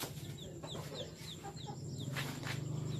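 Chickens clucking in a rural Mekong Delta yard, repeated short clucks and calls over a few seconds, moderately close with background ambience and no talk.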